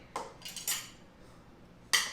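Three or four short metallic clinks from kitchen tongs handling chicken breast, bright and close, with a quiet gap before a final sharper clink.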